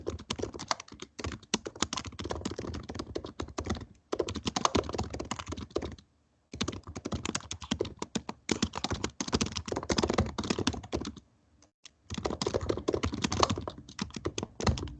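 Rapid typing on a computer keyboard during an online community meeting, a dense steady clatter of key taps close to the microphone, broken by a few brief pauses, with no voices.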